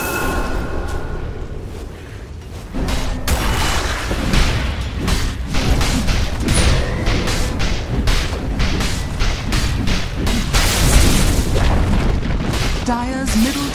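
The Dire middle tower being destroyed during a Dota 2 match, amid a dense, loud barrage of booms, bursts and impact crashes with a voice speaking briefly.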